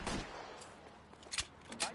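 Gunfire breaks out in the video game L.A. Noire during a shootout with police downtown, with a few sharp shots near the start and sporadic bursts later, under shouted voices.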